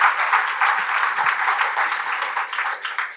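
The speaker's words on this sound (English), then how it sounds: "Little applause for Lenning." A small crowd claps steadily at a women-in-cybersecurity event, the dense, even patter filling a few seconds at moderate loudness with no voices over it.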